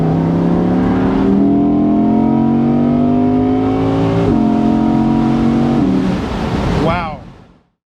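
A 612 bhp Audi R8 V10 Performance Spyder engine runs loud and close, its rich tone rising steadily through the revs, stepping up sharply once partway through, then cutting off and fading quickly to silence.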